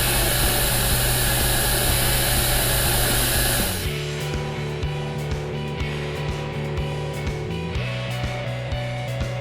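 A Dynaset HK450 hydraulic air compressor on an excavator runs with a loud, steady broadband roar for about four seconds, then drops to a lower mechanical hum with faint repeated clicks and ticks.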